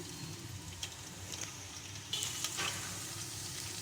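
Chopped medium-sized onion sizzles in hot oil in a pan, a steady close frying hiss that swells brighter partway through as the pieces settle in.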